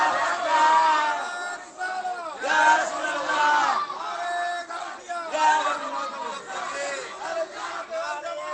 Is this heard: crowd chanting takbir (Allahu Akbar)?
yes